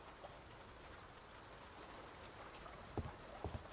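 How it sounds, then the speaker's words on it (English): Steady rain from the noir adventure game Face Noir hisses as a soft, continuous wash, with a couple of low thumps near the end that may be distant thunder. "Rain and lightning."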